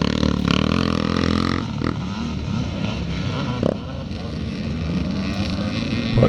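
A 1987 Yamaha YZ motocross bike racing at a classic charity scramble in Northern Ireland, its engine a loud, steady roar close by, rising and falling as the rider works the throttle, with rough wind buffeting on the microphone.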